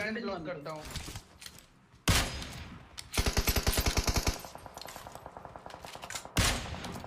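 Sniper gunshots in a shooting video game, loud sharp cracks among bursts of rapid automatic fire, mixed with game effects and a voice talking excitedly over the action.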